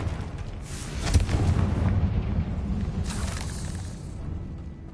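Confringo fire spell from Hogwarts Legacy bursting in a deep, booming explosion that rolls on for a few seconds, followed by a second fiery blast and a fading crackle, with no talking.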